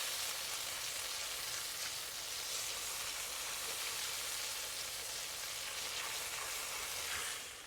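Garlic sauce in a pan has cornstarch solution stirred into it, giving a steady, even sizzling hiss with soft bubbling that runs unbroken for the whole stretch, with no voices.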